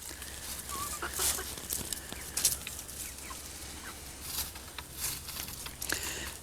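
Chickens in a small backyard flock cluck softly and intermittently against a steady low hum, faint and somewhat distant, with no talking.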